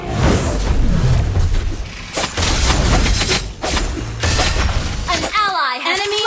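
Turret destroyed in the mobile battle arena game Mobile Legends, a dense run of loud crashes, booms and shattering impacts amid battle noise, ending in a warbling announcer-style sound.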